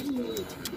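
A pigeon gives a short, soft coo in the morning, a single low gliding call heard at moderate distance over light background noise.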